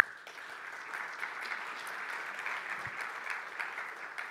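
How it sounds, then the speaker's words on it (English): Sustained applause from a conference audience, a steady even wash of many hands clapping at moderate distance, holding level for several seconds with no voices over it. "So again, a round of applause for them."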